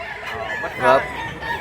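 A stag gamecock crows once at moderate distance, a short rising call standing out over faint background noise.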